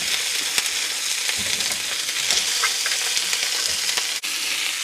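Pieces of old mutton fry in a pan, a steady, close, bright sizzle that runs throughout, with a few soft knocks as the meat is turned over.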